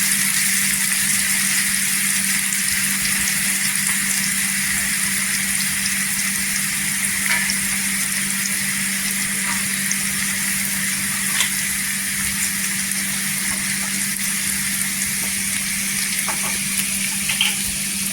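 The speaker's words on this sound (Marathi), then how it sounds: "कांदा इथे आपल्याला म्हणजे जास्त गोल्डन पण नाही करायचा आहे आणि जाळायचा पण नाही, फक्त सॉफ्ट करून घ्यायचा आहे।" Onion softening in hot oil in a pan for potato and fenugreek bhaji, a steady even sizzle and crackle that continues unbroken throughout, moderately loud and close, with no voices.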